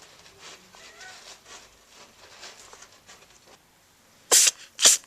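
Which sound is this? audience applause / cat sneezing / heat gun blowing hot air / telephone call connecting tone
cat sneezing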